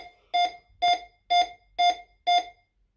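An old Optima Mk 7 burglar alarm panel gives five evenly spaced, loud, sharp electronic beeps while quick-setting a zone, each short tone separated by brief silence, no talk.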